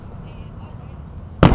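Fourth of July fireworks going off: after a stretch of low rumbling background, a sudden loud broadband burst hits near the end and lingers.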